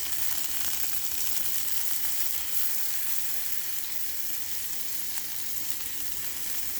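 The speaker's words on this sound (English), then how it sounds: "I hear the sizzle." Broccoli and garlic sizzling in a hot pan, a steady, fairly quiet hiss and crackle of frying that runs without break, with no talk.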